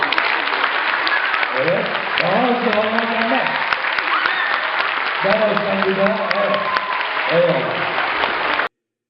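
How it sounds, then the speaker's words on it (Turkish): An audience applauds at a children's theatre event: steady, dense clapping for about nine seconds while a voice speaks over it, then it stops abruptly. "Şimdi belediye başkanımız Cengiz Ergün bir alkışlar mısınız"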